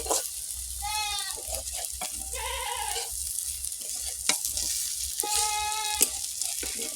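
Bora fritters frying in oil on a clay stove, a faint continuous sizzle under stirring, with bleating goats calling several times nearby.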